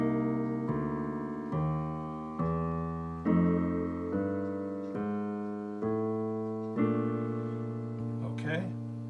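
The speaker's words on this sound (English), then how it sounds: "here's the sound of the first walking bass line walking up." Piano playing a walking bass line, one low note per beat climbing upward under sustained chords, steady and moderately loud, with a brief rustle near the end.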